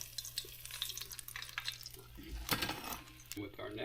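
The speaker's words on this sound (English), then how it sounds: "We're going to put this on a cooling rack to drain off some of that excess oil" Fried skate wing set onto a metal cooling rack to drain oil: faint clinks and metallic taps with light scraping and soft sizzle, quiet and close, with a burst of clatter midway.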